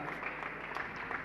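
An audience at a Jain religious gathering applauds in a dense, steady patter of many hands clapping, sustained and moderately distant throughout the short burst.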